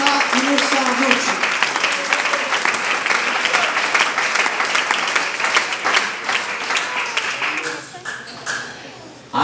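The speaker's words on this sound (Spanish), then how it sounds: "Ese aplauso es para Dios, déselo con toda libertad en esta noche." A church congregation bursts into loud, sustained applause during an evening service, thick steady clapping that stays close and full before tapering off near the end.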